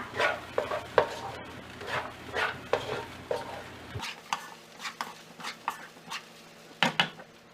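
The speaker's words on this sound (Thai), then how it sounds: "แล้วก็ผัดให้เข้ากันค่ะ" Egg fried rice with carrot being stir-fried in a pan, with steady scraping and stirring strokes of a utensil over a soft sizzle, close and moderately loud.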